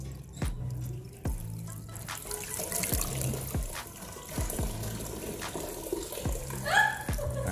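Water is poured into a pipe, producing an irregular trickle and dribble with scattered drips and knocks, close and moderately loud, with brief splashy bursts toward the end.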